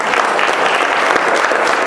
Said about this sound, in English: Let's give our district a round of applause.